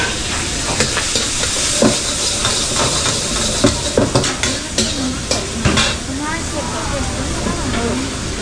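Noodles stir-fried in a hot wok at a cruise ship buffet's hot wok station, with loud sizzling and hissing broken by repeated scraping and clanging of the utensil against the pan, amid crowd chatter.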